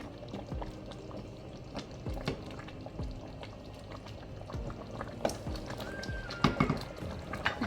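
Water poured into a pot of potato stew with chunky potatoes and thinly sliced carrots, a steady liquid trickle and bubbling that stays close and moderately quiet for several seconds with no talking.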